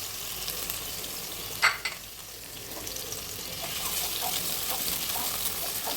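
Onion and vegetables fry in a pan as the start of a vegetable khichuri, giving a steady, close sizzle with a brief clatter early on and the frying growing slightly louder toward the end.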